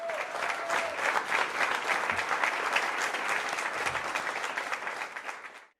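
A graduation audience at a 2020 high school ceremony claps steadily and loudly, a dense, continuous wash of applause with light cheering that tapers off at the end.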